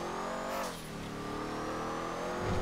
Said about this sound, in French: elle a un super beau moteur, franchement. Je l'entends vraiment bien